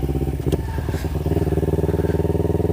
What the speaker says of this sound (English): this bike's kind of loud, and this is kind of a quiet neighborhood